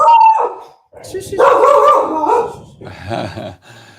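A dog barks and yips in several loud bursts with short gaps, some drawn out toward a howl, during an indoor conversation, with a person's voice mixed in.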